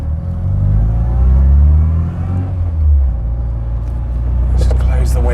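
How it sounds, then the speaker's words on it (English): A 1997 Classic Mini Cooper with a 1275cc engine and K&N air filter revs hard, a loud, close, raspy rumble swelling and easing over a few seconds while a voice talks over it. "So that's a K&N air filter. Listen to how raughty that sounds."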